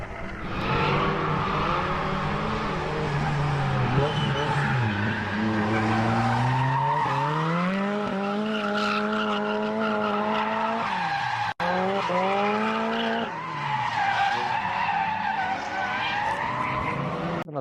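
Drift car at a Twin Drift meet in Mobara, engine revving with rising and falling pitch as tyres squeal and skid through a spin, loud and sustained with brief breaks.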